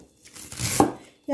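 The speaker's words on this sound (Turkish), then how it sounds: "En küçük şekliyle ıspanaklarımızı doğrayalım." A knife chops fresh spinach very fine on a board, making a short run of soft, crisp cuts close by, with one brighter knock near the end.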